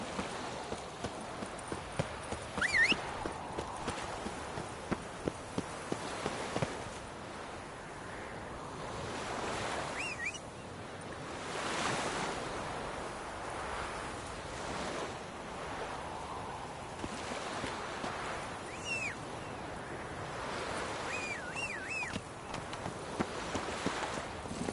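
Roach the horse gallops across open ground in The Witcher 3, hooves clip-clopping in a steady rapid rhythm over constant wind and surf-like rushing noise, with no talk.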